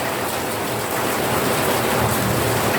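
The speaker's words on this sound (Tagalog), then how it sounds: "Lumalagapak yung mga yero." Heavy typhoon rain pours down onto corrugated iron roofs in a dense, continuous clatter, loud and close, with a dull rumble underneath and no voices.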